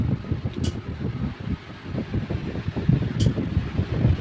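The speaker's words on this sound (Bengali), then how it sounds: "ফ্যানটা ভালো না, হাওয়া নেই।" A newly bought electric fan runs with a steady low whirring hum and rhythmic airy flutter, plus two brief high clicks.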